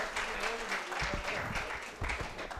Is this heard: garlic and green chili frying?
no